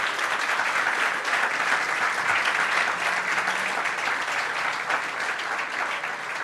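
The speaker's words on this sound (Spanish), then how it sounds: "Dale una ofrenda de palmas a ese rey maravilloso" A church congregation claps together in a sustained, dense burst of applause that holds steady and fairly loud throughout, with no distinct voices over it.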